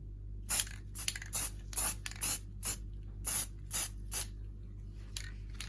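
An aerosol can sprays a first coat of primer onto a toy Britains rotary muck spreader in about ten short hissing bursts, fairly quiet, over a steady low background hum.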